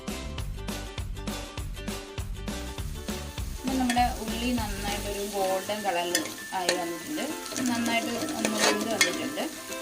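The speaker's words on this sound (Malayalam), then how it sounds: "ഇതിനെ നന്നായിട്ടൊന്ന് നല്ല പോലെ ഒന്ന് വഴറ്റിയെടുക്കാം നമുക്ക്" Ginger, garlic and green chili sautéing in a pan, a continuous close sizzle with rhythmic stirring, while background music with a beat and melody plays loudly over it throughout.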